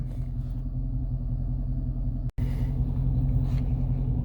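A car engine idles with a steady low rumble throughout, broken by one brief cut near the middle, with no talking.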